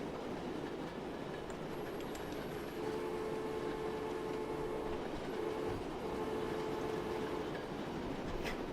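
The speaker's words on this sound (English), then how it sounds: "Train on the line." Train running on the line in a train video game, a steady rolling rumble with clicking wheel rhythm and a faint high squeal, even and continuous at moderate level without talk.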